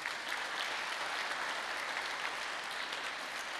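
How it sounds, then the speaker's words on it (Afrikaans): Steady applause from a church congregation during a Sunday service, a dense wash of hand claps filling the room at even loudness from start to finish, with no voices over it. "Kom ons gee vir hulle so 'n lekker hande klap."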